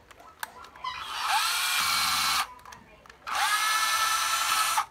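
A used cordless battery drill with variable speed and reverse, whirring in two long bursts separated by a short pause, with light clicks and handling noise around the motor runs.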